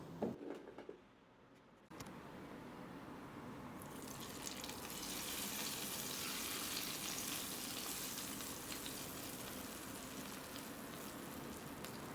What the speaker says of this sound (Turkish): nane ilavesini de yaptıktan sonra iyice kızdıracağım